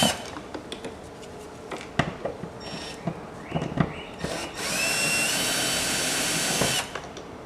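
Power drill spinning out bolts from a VW Beetle door during window regulator replacement: scattered short bursts and clicks, then a steady, loud whir of a few seconds, heard close up with no talking.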